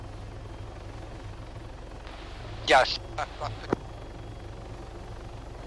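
Military transport helicopter in a combat video game, its steady rotor and engine drone running continuously in the background while a voice speaks briefly over it and a few short bumps sound.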